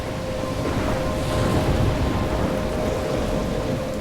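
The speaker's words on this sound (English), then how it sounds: "I'm trapped in a storm?" Heavy rain pours steadily in a thunderstorm within the video game Life is Strange, a dense continuous wash with low rumbling thunder beneath, loud and unbroken with no voices.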